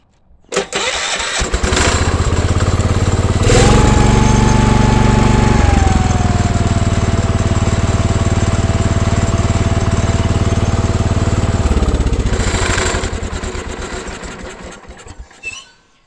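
An old tractor-type machine with a clutch-start engine cranks and catches, then settles into a loud, steady, rough running drone for several seconds. It winds down near the end, all close to the microphone with no talk.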